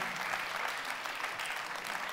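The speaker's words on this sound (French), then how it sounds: "On applaudit Concept 1900." Audience applause greets the company Concept 1900 at an event, a steady dense wash of many hands clapping close by with no break for the whole stretch.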